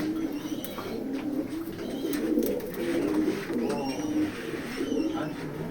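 Racing pigeons in a loft coo repeatedly in soft, throaty rolling calls, several birds overlapping close by, with someone talking over them.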